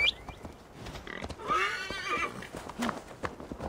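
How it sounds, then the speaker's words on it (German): A horse in the video game Assassin's Creed Valhalla gives a loud, shrill neigh amid clip-clopping hooves, with a short snort at the start and game ambience around it. "Pferd."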